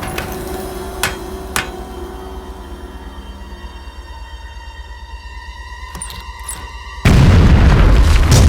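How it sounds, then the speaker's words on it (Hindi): A rock is blown up in an animated Motu Patlu movie scene: after several seconds of sustained tonal sound with a couple of sharp metallic hits, a sudden loud, broad explosion roars in and fills the final second and a half. "उड़ा दो इस चट्टान को।"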